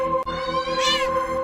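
Cat in an indie horror video game meowing while being petted, one drawn-out, fairly loud meow rising and falling over a steady game music drone.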